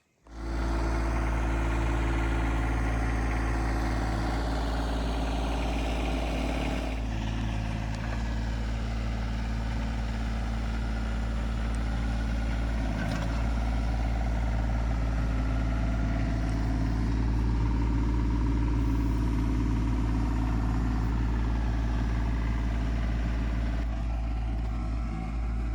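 A diesel compact tractor with a backhoe digs ditches, its engine running steadily throughout, a loud low rumble that rises and strains briefly as it works, close and continuous, with no talking.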